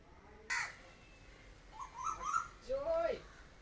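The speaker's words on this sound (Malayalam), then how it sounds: "ഒരു കുയിൽ വന്നതിനിടയ്ക്ക് അതിനെ കാക്ക ഓടിച്ചിടാൻ പോണു, ഓടിച്ച് ഉപദ്രവിക്കുകയാണ്." A crow chases and harasses a koel outdoors, giving several harsh caws: one sharp call, then a cluster of rising calls and a longer drawn-out caw, fairly close against a quiet background.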